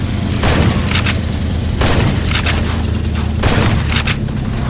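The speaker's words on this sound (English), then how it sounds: "You're shooting me from this side." Loud, continuous gunfire from a Far Cry 2 firefight on a barge at night in the rain, with repeated volleys and bursts over a dense rushing background.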